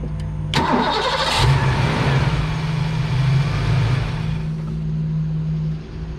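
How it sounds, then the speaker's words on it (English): A Ford Mustang Foxbody engine cranks and catches with a sharp burst, revs briefly, then settles into a steady idle before cutting back slightly at the end, during a base idle reset with the idle air control unplugged. "start the car up"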